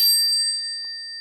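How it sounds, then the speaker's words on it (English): A traditional brass bicycle bell from Portland Design Works, all-metal with a dome on top, struck once and ringing with a bright, sustained metallic ding that slowly decays, heard alone. "like this one from Portland Design Works. Nice traditional brass bell on the top, nice bright work everywhere else, and all metal."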